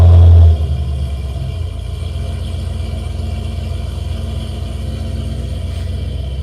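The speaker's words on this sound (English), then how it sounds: "That's a loud car" Loud car rumbling past outside, a heavy engine roar that peaks at the start and then settles into a sustained low drone for several seconds.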